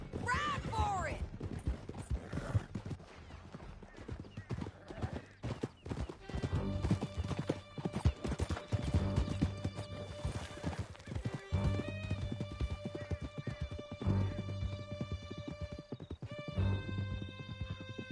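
Horses gallop in a PS4 game as riders flee through a canyon, with steady clip-clop hoofbeats, occasional neighs and scattered gunshots, and voices talking over the ride.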